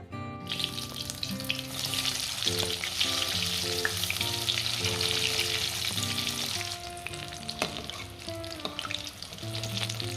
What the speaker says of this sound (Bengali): চিকেনগুলোকে এভাবে ব্যাটারে ডিপ করে এবার আমি এটাকে তেলের মধ্যে ছেড়ে দেবো